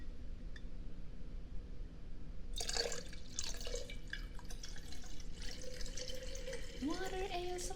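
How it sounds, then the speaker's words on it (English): Water pours from a tap to refill a cup indoors in a quiet close-miked setting, a faint drip first, then a burst of splashing flow with a rising gurgle as the cup fills. "I'm actually running low on water, so let me refill my cup."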